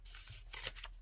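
Scissors cut paper while a photo pocket is being crafted, two quick, faint snipping sounds close by over a quiet room hum.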